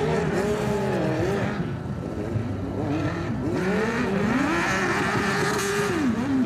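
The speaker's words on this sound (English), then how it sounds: "I think he's going to struggle with that big engine through the moguls." A big Harley-Davidson motorcycle engine revs hard and continuously at a dirt hill climb through moguls, loud and close, its pitch rising and falling with throttle blips and no talking.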